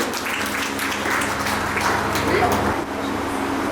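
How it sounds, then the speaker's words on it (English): A crowd claps steadily in a large room at a school award ceremony, a dense continuous patter of applause with a low hum underneath. "Round of applause, please."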